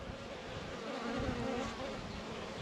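A honey bee swarm buzzes inside a wall, a continuous close drone of many wings with no voices over it.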